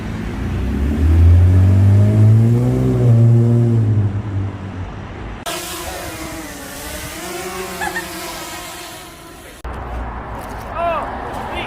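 A car engine revving close by, with a rising and falling growl, then a passing drone, mixed with some background speech.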